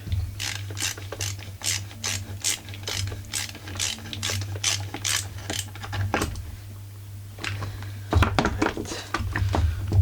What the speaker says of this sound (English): I'm going to screw it in with the flat screwdriver.